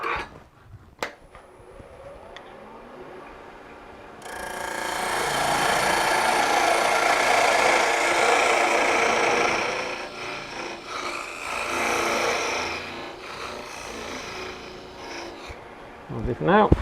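Woodturning between centres on a lathe, a gouge squaring up a spinning wood blank: a steady rasping, scraping cut that swells for several seconds then fades and resumes briefly, with quieter shop noise around it.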